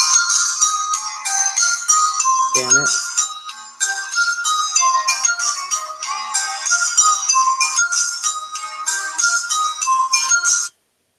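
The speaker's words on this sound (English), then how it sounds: "random stuff going off on my tablet making noise" A tablet keeps chiming with a bright, rapid run of electronic notification tones that play almost continuously and loud before stopping abruptly, with a brief low warble partway through.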